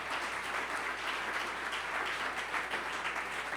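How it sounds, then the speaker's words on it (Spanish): A church congregation applauds during a sermon, a steady wash of many hands clapping together, heard at a distance and fairly faint, holding even throughout without voices standing out. "Si quiere aplaudir, hágalo"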